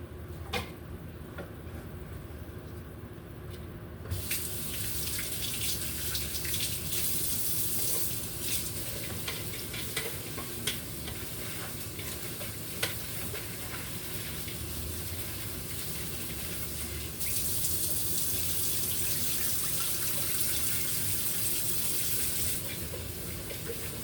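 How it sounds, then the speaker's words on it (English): Tap water runs steadily into a sink while cabbage and other vegetables are washed, a continuous close splashing rush that grows louder partway through, with occasional clatter of handling. "Be sure you wash always wash your vegetables properly"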